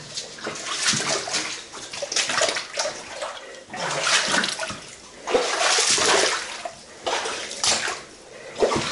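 Fresh water flowing and splashing inside the 1880 Channel Tunnel workings, a continuous loud rushing with surging swells and brief pauses, no talk over it.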